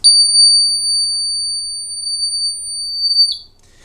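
A Tinkerbell water leak detector alarm sounds a steady, loud high-pitched tone lasting over three seconds, with a brief chirp at the start and end and no other sound.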